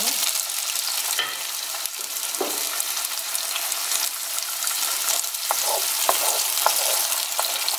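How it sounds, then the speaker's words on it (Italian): Cherry tomatoes drop into a pan of garlic already frying in oil, sending up a loud, continuous sizzle with a few crackling pops and stirring scrapes. "Dopo aver lasciato soffriggere un po' l'aglio con l'olio, vado ad aggiungere i pomodorini."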